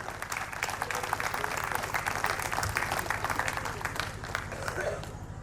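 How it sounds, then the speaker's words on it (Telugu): Audience applause at a spiritual talk on parenting and dharma, a dense continuous patter of many hands clapping steadily throughout, fairly loud with crowd murmur mixed in. "గట్టిగా ఒకసారి చప్పట్లమ్మా, గట్టిగా."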